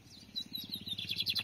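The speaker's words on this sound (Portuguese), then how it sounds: "É um bigode em faísca" A lined seedeater (bigodinho) sings softly and nearby in the rainy Brazilian sertão, giving a rapid run of high, bright chirping notes that speed up toward the end over a low, steady pulsing in the background.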